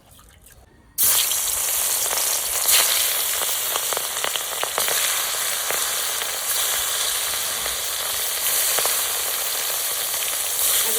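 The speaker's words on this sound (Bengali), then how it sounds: "তেল গরম হয়ে গেছে এবার আমি মাছ ছেড়ে দেবো" Fish drops into hot oil with a sudden loud hiss, then fries in a steady, dense crackling sizzle that continues close up and evenly to the end.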